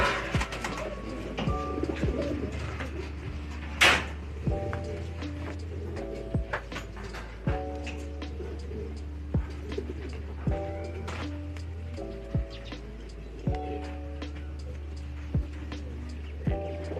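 Racing pigeon hens coo in repeated soft, low rolling calls spaced a few seconds apart, nearby, with faint chirps and occasional light knocks in the background and no speech.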